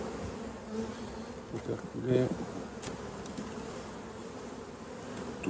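Honeybees drone steadily around an open hive during brood inspection, a close continuous buzz with a few louder passes, under quiet handling noises.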